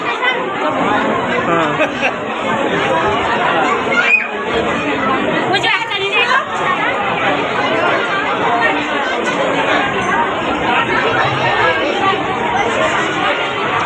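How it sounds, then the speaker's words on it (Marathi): Dense crowd chatter at a village temple fair fills the whole stretch, many voices overlapping in a loud, continuous babble with no single speaker standing out. "किती गर्दी बघितली का मित्रांनो इथं?"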